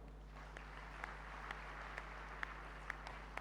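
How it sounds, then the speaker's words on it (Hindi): An audience claps at a Hindi spiritual discourse in Hyderabad, a soft continuous patter of many hands with a few sharper claps ringing out at regular intervals, over a steady low electrical hum. "ताली बजाओ।"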